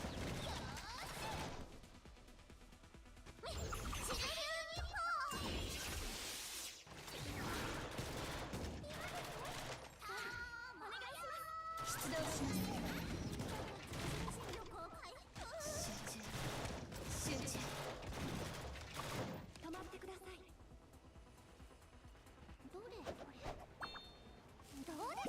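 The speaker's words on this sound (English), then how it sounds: "Bro just keeps shooting in that direction." Gunfire from the game Blue Archive rattles in repeated rapid bursts and volleys with crashing impacts, loud and dense over game music throughout.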